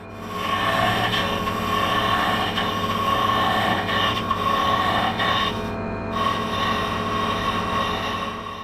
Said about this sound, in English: I'm moving down to a very narrow parting tool now to cut in the top and bottom of the handle itself